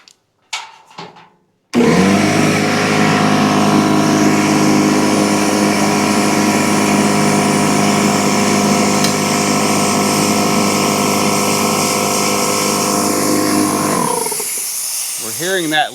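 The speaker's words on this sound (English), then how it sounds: "As soon as I started messing with that regulator in and out though, it just leaks out the regulator now." Air hissing from a faulty regulator on a Porter Cable C2002 six-gallon air compressor with a steady motor hum, loud and continuous for about twelve seconds after a short bit of handling noise.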